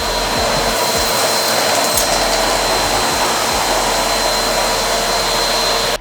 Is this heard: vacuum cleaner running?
yes